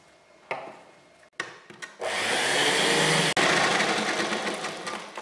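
A sewing machine stitches a straight seam on a lehenga, the motor starting after a few short clicks and handling sounds, then running loudly and steadily for a few seconds with a brief pause and continuing at a slightly lower level.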